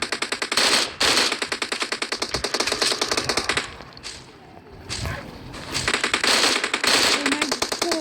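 Rapid automatic gunfire from the mobile battle-royale game PUBG Mobile, loud near bursts of rattling shots in long runs, broken by a short lull before the firing resumes.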